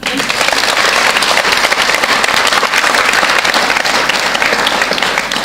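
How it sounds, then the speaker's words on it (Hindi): A seated audience claps together in sustained, dense applause, loud and close, holding steady for several seconds without talk. "एक बार खुद के लिए ताली बजाओ"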